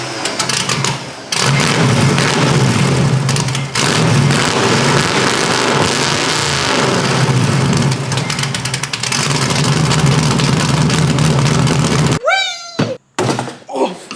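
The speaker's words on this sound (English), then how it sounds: "Of course I'm gonna start it up straight piped." A 1975 Corvette V8 with a four-speed, run straight piped with no mufflers, roars loudly and steadily for about twelve seconds, then cuts off abruptly into a few short clunks and squeaks.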